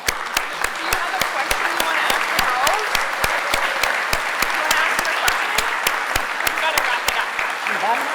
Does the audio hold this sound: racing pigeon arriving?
no